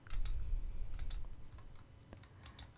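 Computer keyboard keys pressed as shortcuts while drawing a cherry blossom icon in Illustrator CC: a few quick clustered clicks and taps, close and fairly quiet, with no talk.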